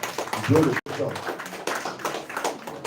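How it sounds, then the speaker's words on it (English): A round of applause at an Edo South youth stakeholders meeting, a crowd of hands clapping steadily at moderate volume with a brief dropout, some voices mixed in underneath. "I think we should give a round of applause to this man."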